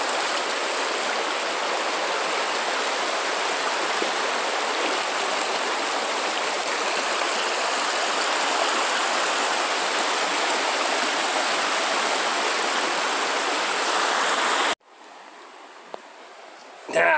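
Clean spring water flowing in a stream on a ranch, a steady loud rushing wash that runs continuously for most of the stretch, then cuts abruptly to quiet.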